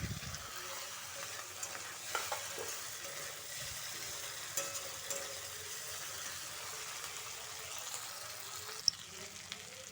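Cumin and coriander paste sautéing in a pan for a fish roe curry, a soft, steady sizzle with faint stirring scrapes and a couple of small knocks, fairly quiet and with no voices.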